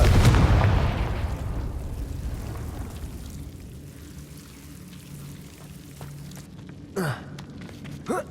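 A Confringo spell blast in Hogwarts Legacy, a loud booming burst at the start that rolls off into a long fading rumble, followed later by a couple of short whooshing effects.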